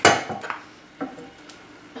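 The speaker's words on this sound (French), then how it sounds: "Je mélange jusqu'à ce que le caramel soit épais." A utensil clinks and scrapes against a pan while caramel is stirred with butter, a few separate close taps spaced through a quiet background.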